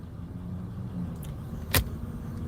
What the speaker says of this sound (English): Why my truck sound like that? It's like I need a spark plug or something.